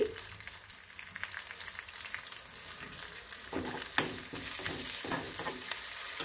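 Minced garlic and finely chopped ginger sizzle in hot oil in a home kitchen pan, a steady crackling fry that grows livelier midway, with bursts of spattering and stirring clatter near the end.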